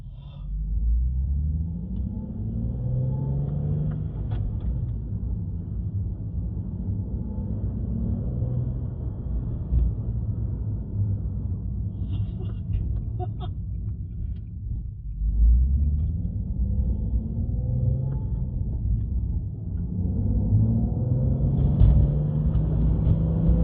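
Inside the cabin of a Nissan 370Z fitted with an HKS Hi-Power exhaust, a steady, deep exhaust drone fills the space, swelling slightly as the engine revs rise near the middle and end. No one speaks.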